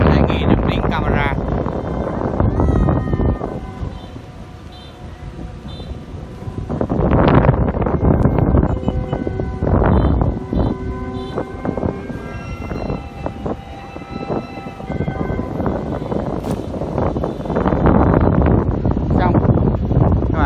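Strong wind buffets the camera microphone while a giant kite is flown outdoors, a loud continuous rumble that swells and eases in gusts, with a voice talking over it.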